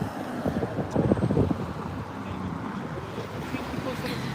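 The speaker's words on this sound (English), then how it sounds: "I do apologize if it's breezy" Wind gusts buffet a microphone outdoors on a city street in Philadelphia, producing a steady low rumble with a stronger blast early on that settles into a constant breezy roar.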